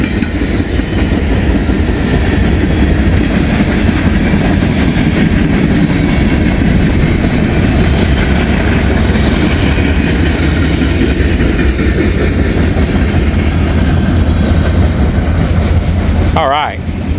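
Norfolk and Western grain cars roll past on a freight train, with a loud, continuous close rumble and rhythmic clickety-clack of wheels on rail joints, voices faintly beneath.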